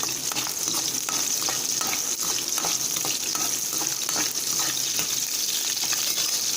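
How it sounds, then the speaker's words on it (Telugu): Cut green chillies fry in hot oil with a steady, loud, dense sizzle that runs unbroken throughout, crackling without pause and with no talking over it. "ఫ్రై చేసుకుందాం."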